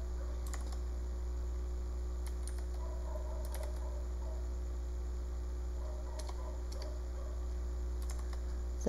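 Faint, sparse keystrokes on a computer keyboard as a command is entered in a terminal, a few short clusters of clicks spread over a steady low hum, with no talking.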